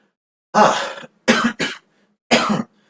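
A person imitates coughing, four rough coughs in quick succession, close and clear against silence.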